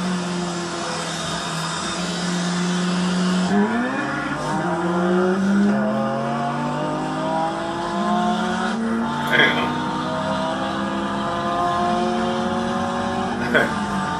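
A Honda car accelerates hard from a rolling start with wheelspin, its engine note climbing steeply through several gear changes, loud and close with a faint tire squeal mixed in.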